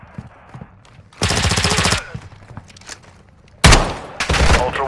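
Automatic gunfire in Call of Duty: Warzone 2.0 DMZ comes as two loud, rapid bursts with quieter pauses between them.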